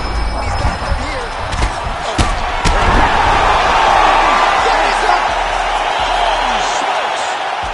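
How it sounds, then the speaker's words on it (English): An arena crowd cheers loudly in the UFC 5 fighting video game, a sustained roar rising after several sharp impact thuds, with a commentator talking over it. "Crowd loving it."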